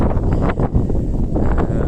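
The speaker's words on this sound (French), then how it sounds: "Il y a du vent, je suis à l'extérieur, je sais pas si on m'entend" Wind buffets a microphone outdoors in a steady low rumble that fills the whole stretch, with gusty swells and no clear voice.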